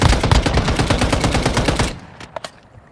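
Rapid automatic gunfire in Call of Duty: Warzone on Rebirth Island rattles loud and close for about two seconds, a dense stream of shots that stops abruptly, followed by two faint distant pops.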